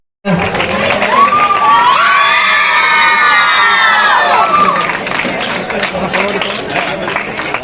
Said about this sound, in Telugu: children clap hands